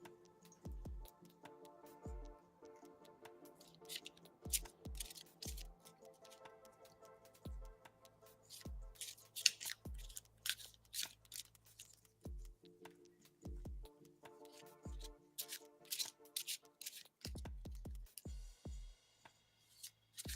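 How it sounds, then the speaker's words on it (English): Tarot cards shuffled by hand: a run of soft, close riffles and taps, irregular and fairly faint, with no talk over them. "And I may need to shuffle for a while."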